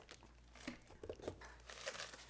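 Packaging crinkles and tears as a 2020 Huawei MateBook 13 laptop is unwrapped, a run of close, quiet rustles and crunches with a brief voice near the end.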